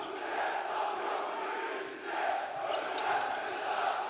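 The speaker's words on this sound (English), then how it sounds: "The crowd going nuts here in Istanbul." A basketball arena crowd in Istanbul roars steadily during a Besiktas Sompo Sigorta versus Neptunas Klaipeda game, the noise swelling and dipping slightly in the distance with a faint voice beneath it.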